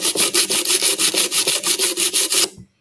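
Wood is hand-sanded with sandpaper in quick, even back-and-forth strokes, about a dozen rasping passes in a steady rhythm, close and loud, before it stops abruptly.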